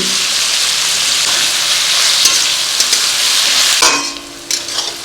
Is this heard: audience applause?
no